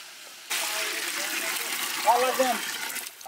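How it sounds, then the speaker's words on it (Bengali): Water gushes steadily into a pot of meat for boiling for a few seconds, a close, rushing pour with faint clinks of the vessel. "মাংস সিদ্ধ করবো, পানিটা দিয়ে দিলাম"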